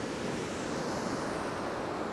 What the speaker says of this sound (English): caused by the crashing waves